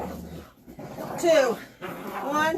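A dog pants and lets out a few short whimpers close by during a home leg workout, the breathy rhythm broken by high whines, with a person talking over it.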